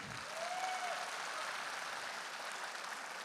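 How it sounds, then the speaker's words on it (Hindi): An audience at a gathering claps at length, a dense, even wash of many hands that stays fairly faint and unbroken throughout. "उसके नाम पे तो तालियां होनी चाहिए सर।"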